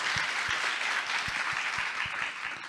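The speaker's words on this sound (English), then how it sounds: "And then let's give him a round of applause," Audience at a science communication panel discussion applauds with steady, dense clapping and a few louder individual claps, sustained without a break.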